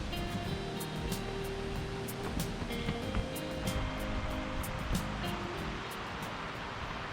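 Gate Gill's rushing stream water pours in a steady, dense wash, close by and without pause in the rain on a Lake District fell path, with no voices.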